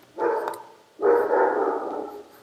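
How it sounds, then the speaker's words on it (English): Two bursts of a dog barking close by, a short bark followed by a longer, drawn-out one, with no talking. "Can you please stop barking?"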